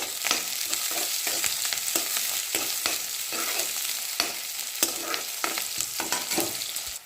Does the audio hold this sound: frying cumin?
yes